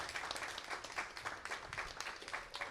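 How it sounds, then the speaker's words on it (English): Steady applause from a crowd at a tennis tournament singles semifinal, a dense patter of many hands clapping at moderate volume throughout. "please give this lady a round of applause"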